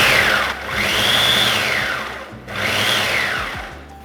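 A blender whirs loudly in two long bursts as cheesecake base crumbs are mixed with butter, with a brief dip and pause between the blasts and a steady motor drone throughout.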